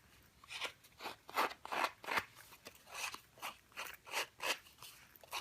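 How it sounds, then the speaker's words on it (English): Scissors distressing the edge of a paper craft piece, a run of about a dozen rhythmic scraping crunches, close and fairly quiet, with no speech. "distressing it with your scissors or with a distressing tool is a good solution to that"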